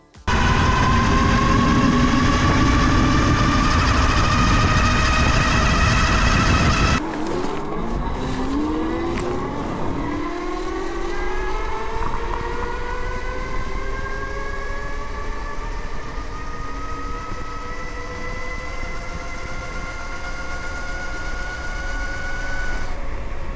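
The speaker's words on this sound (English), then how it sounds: "I started noticing some increased motor noise and vibration, especially at high speed or under hard acceleration" A loud, close e-bike motor whine from a Revibikes Cougar Pro rises steadily in pitch under hard acceleration at high speed, with an abrupt drop partway through and a whirring hum continuing after.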